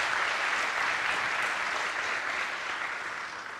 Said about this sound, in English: Can we give them a round of applause just for that, I think?